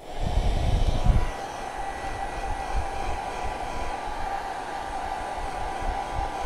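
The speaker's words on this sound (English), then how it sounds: "I'm going to take my blow dryer, and I am going to" A blow dryer drying a dark chocolate candy jar gives a steady, fairly loud airy whir, with a brief louder rumble at the start before it settles into a constant hum.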